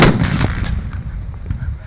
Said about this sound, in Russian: Но бояться выстрелов из этих 122-миллиметровых пушек не стоит.